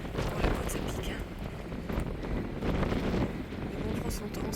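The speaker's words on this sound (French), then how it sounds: "Là le vent c'est bien levé." Strong wind buffets the microphone steadily on a mountain climb on the Camino de Santiago pilgrimage between Saint-Jean-Pied-de-Port and Roncevaux, a loud continuous roar with gusty surges throughout.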